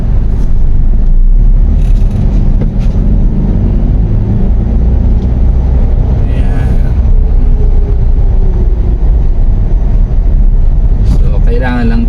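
Manual transmission car pulling away in first gear in congested barangay traffic, a loud continuous engine and road rumble with occasional clunks and brief higher bursts, close and dominant throughout.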